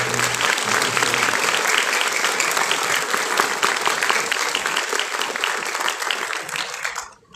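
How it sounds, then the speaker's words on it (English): Loud, sustained applause from a graduation audience honoring the family and friends of an LVN nursing class, steady dense clapping for about seven seconds before it fades out. "let's give a round of applause for all the family and friends of the graduates"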